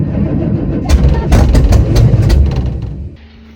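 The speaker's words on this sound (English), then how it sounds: "It backfires and fire shoots up out of the carburetor." Chevy Suburban engine with open headers backfiring through the carburetor, a loud rough rumble broken by a cluster of sharp pops and bangs that then fades.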